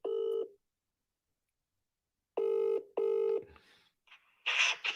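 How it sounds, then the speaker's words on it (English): Telephone keypad dialing tones: a single steady beep, a pause, then two more tones in quick succession, followed by brief fainter electronic chirps and a bright burst at the end, all clear with no talking. "I must make this phone call."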